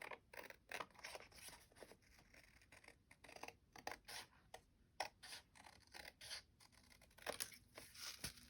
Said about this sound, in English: And then I just planned to cut around it.